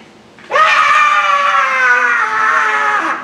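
A church congregation at a camp gathering shouts together on command, one loud sustained crowd yell rising abruptly and holding for nearly three seconds before fading, close and dominant.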